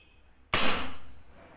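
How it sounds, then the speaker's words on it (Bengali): A single sharp shot from a Diana Stormrider Gen3 PCP air rifle during chronograph testing, a sudden loud crack after a quiet moment that rings out and fades over about a second. "এটা তৃতীয় নম্বর শট।"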